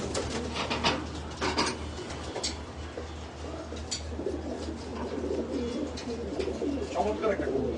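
A pigeon from a loft collection coos softly and repeatedly near by, its low rolling calls sitting under a person talking and a steady background hum.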